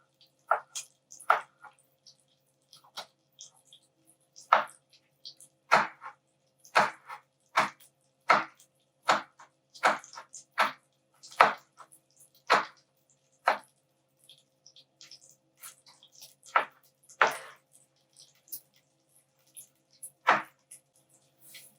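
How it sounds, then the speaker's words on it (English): A knife chops a bell pepper into little pieces on a board, giving crisp, evenly spaced cuts close up, about twenty strikes with short pauses between, with no other sound. "Then chopping up the bell pepper into little pieces."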